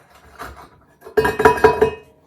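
A steel chisel is lifted and handled on a ceramic kiln shelf during kiln unloading, giving a soft knock followed by a close cluster of four or five sharp metallic clinks and scrapes, with no talking.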